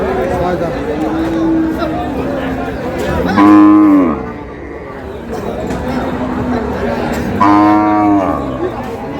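Cows and calves at a rural cattle market lowing twice in long, loud moos several seconds apart over a constant background of crowd chatter and bargaining voices.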